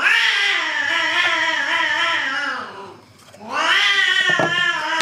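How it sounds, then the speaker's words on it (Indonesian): Cats yowl and caterwaul in long, loud, drawn-out wails, one sustained cry dipping and fading before another rises and carries on, close and dominant. "Kaget aku asli, banyak kucing."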